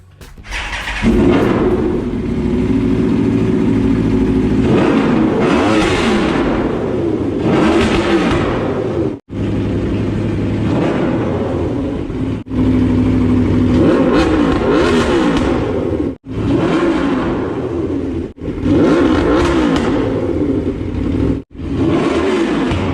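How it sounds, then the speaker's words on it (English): A 2015 Aprilia RSV4-R motorcycle engine, warm from running, starts and is revved hard several times, each loud, close blip dropping briefly back to idle between rising roars. "Let's start it up and give it a rev."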